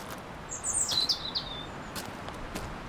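Robins and sparrows singing as a story sound effect in tall wild grass, a few short bright chirps bunched near the start, fairly quiet over a soft outdoor hiss.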